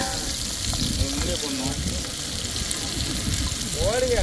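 Vadagam spice balls frying in hot oil for a goldfish curry, giving a steady close sizzle throughout, with someone talking over it.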